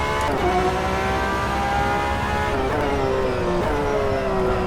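GTE race car engine in the rFactor 2 sim racing game, revving steadily and loudly throughout with harmonic whine and small pitch rises and dips as it runs near and continuous.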